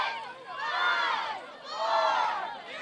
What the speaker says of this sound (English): You can hear the crowd in the background counting this one down.